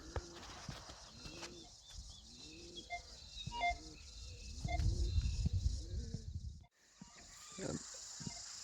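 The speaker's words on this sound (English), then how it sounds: "Wondering what all this noise is, but there's all these awesome pigeons up here" Pigeons of various breeds coo repeatedly in a rhythmic series of low calls, with a steady background hiss and some rustling and handling noise close by.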